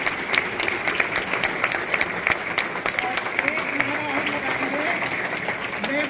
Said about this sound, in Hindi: जो आज आयोजक है उनका जोर से उनका अभिनंदन करते हुए ताली बजाएंगे राजेश जी